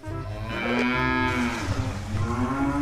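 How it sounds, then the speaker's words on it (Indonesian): Cattle low and moo loudly and close by while being loaded onto a truck headed for a cow contest, one long drawn-out call rising and falling over a steady rumble of other animals and movement. "Kita naikkan semua dulu sapi-sapinya teman-teman."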